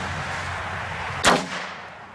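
A single Aguila Interceptor .22 round strikes a car door, one sharp loud impact with a brief ringing tail, alone over a steady background hiss.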